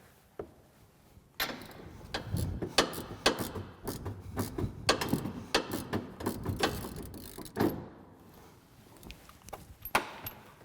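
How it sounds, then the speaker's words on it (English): A 19mm socket on a ratchet works a seatbelt retractor nut loose inside a Polaris RZR RS1, giving close, uneven runs of sharp ratchet clicks and metallic knocks, with brief pauses between strokes. "right now we're going to be using a 19mm socket to remove that retractor"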